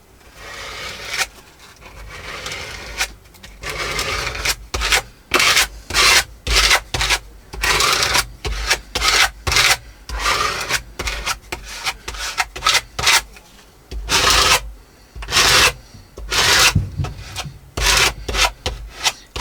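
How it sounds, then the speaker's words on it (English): A scraper spreads material across a junk journal page, making loud, close, rasping strokes. They repeat in irregular bursts with short pauses between them. "Then I'll use my scraper here."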